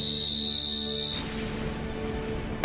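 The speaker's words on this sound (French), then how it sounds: "Et je siffle le coup d'envoi." A referee's whistle at a kick-off in the Inazuma Eleven animated series sounds as one long shrill steady blast, then cuts off into a low rumble of background ambience.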